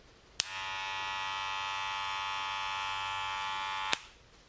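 A Wahl hair clipper clicks on and runs at a steady loud buzzing hum for about three and a half seconds, then clicks off, close and with no talking.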